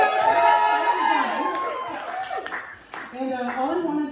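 A birthday audience claps and cheers in a steady wash of crowd noise, with voices shouting over the applause throughout.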